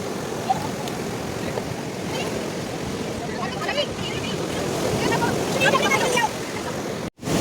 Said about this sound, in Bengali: এই দেখো ঢেউটা কীভাবে আসছে পুরো পা বেরিয়ে আসছে এটা দেখো আরও অনেক অনেক ঢেউ আসছে